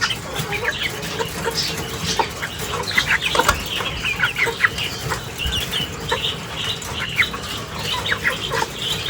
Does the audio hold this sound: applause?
no